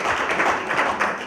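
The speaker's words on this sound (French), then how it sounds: "Bel applaudissement" Applause from the audience at a poetry prize ceremony: a loud, steady wash of many hands clapping, swelling in soft pulses across the short stretch with no voices on top.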